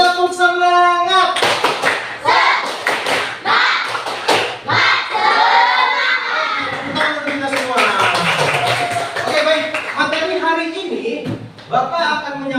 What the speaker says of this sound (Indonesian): Oke, sekali lagi tepuk semangat.